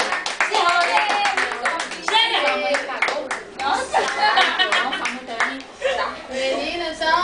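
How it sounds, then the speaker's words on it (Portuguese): A group of teenagers claps in a quick, ragged rhythm, with lively chatter and voices mixed in throughout. "Pode recolher as palmas."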